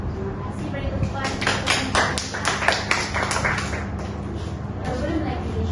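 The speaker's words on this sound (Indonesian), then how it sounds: "Beri tepukan" Children in a primary school art class clap together for a classmate, a short burst of close, sharp hand claps that thins out into scattered taps.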